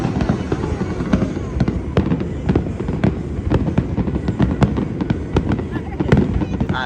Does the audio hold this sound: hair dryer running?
no